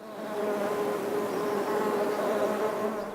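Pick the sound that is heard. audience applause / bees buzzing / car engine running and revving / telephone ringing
bees buzzing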